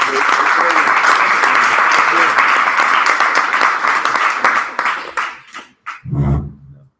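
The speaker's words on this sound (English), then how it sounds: "please give a big applause to this guy" An audience at a startup investors' talk claps loudly and steadily for several seconds, then the applause thins into scattered claps and fades, ending with a short burst of voices.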